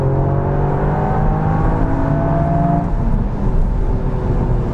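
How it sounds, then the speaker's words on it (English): Toyota GR Yaris with the Circuit Pack revving hard in second gear, a loud sustained engine whine whose pitch climbs steadily with the revs, close up, with no talk. "Let's whack it back down to second and just chase those revs a little bit."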